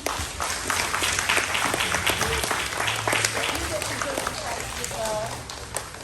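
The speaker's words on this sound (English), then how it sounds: "So I want you all to give Mr. Jace a round of applause" A school assembly audience applauds a student honoured for perfect attendance, a dense continuous round of clapping with voices and cheers mixed in throughout.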